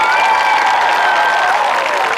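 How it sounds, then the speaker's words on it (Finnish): Stadium crowd in the A stand applauding during a harness racing horse show, a loud continuous roar of clapping and cheering with a sustained tonal shout or horn line running above it for about two seconds. "Otetaan kunnon aplodit täältä A-katsomosta ensin Hokkukselle."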